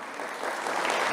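A church congregation applauds during a Spanish-language sermon, a steady dense wash of clapping that builds slightly in loudness over about a second, with no voices over it.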